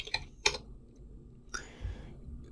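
Keystrokes on a computer keyboard, a handful of separate clicks with gaps between them, close and quiet against a silent room.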